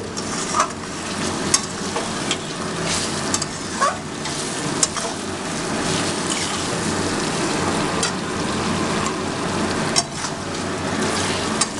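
Chicken sautéing and being stirred in a kadhai for home-style kadhai chicken: a steady, close sizzle of frying with frequent scraping and clinking stir strokes, no voices.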